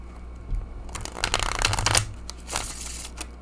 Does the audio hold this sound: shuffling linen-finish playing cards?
yes